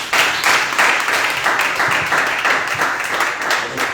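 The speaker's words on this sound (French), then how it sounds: "acclame le Seigneur" A church congregation applauding during a gospel service, steady rhythmic clapping from many hands at a loud, close, even level throughout, with no speech.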